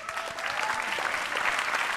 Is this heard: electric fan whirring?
no